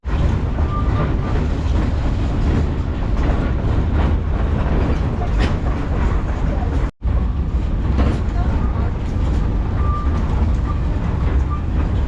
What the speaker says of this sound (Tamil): நம்ம இப்போ அது பக்கத்தில் இருக்கக்கூடிய இந்த ஃபேமிலி ட்ரெயின் இருக்குங்க